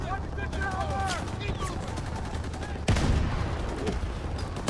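Gunfire in the Call of Duty WW2 campaign: bursts of shots and a loud blast near the middle, over a busy battle din with a voice speaking intermittently.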